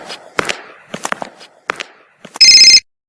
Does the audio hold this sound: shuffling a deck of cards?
no